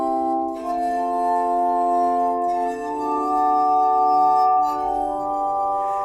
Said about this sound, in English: The quickest way to play a glass is on the actual knuckle.